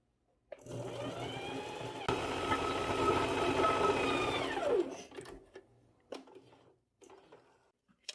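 A sewing machine stitches a plus-size bikini bottom in one sustained whirring run of about four seconds, close and loud, then stops, followed by a few light clicks and handling sounds.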